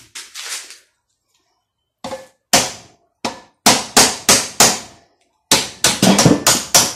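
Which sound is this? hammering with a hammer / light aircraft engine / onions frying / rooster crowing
hammering with a hammer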